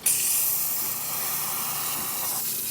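Steam wand on a Crossland coffee machine hisses in one continuous, loud, broadband jet of steam with no talking over it.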